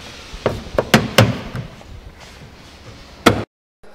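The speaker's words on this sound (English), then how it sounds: "It's actually a hammer that panel beats stuff" A panel-beating hammer strikes metal in a series of loud, sharp blows, several in quick succession early on and one more after a pause, each ringing briefly before the sound cuts off.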